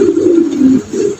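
A pigeon pair, a blue checker male and an Andalusian female, coos at close range. One loud, drawn-out rolling coo is followed by a shorter second one, with no speech.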